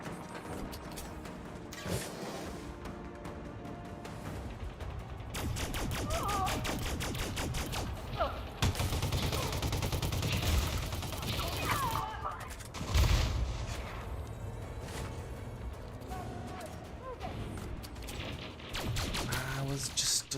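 Ship weapons fire in the space combat game Elite Dangerous: rapid, repeated blasts and crashing impacts come in dense bursts over a droning engine bed, with people talking over the action.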